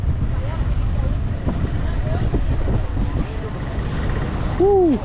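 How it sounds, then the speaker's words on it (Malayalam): Strong wind roars steadily against the microphone for the whole stretch, a thick low rumble beneath a person talking. "ഒരു രക്ഷയില്ല കേട്ടോ നല്ല കാറ്റുണ്ട്"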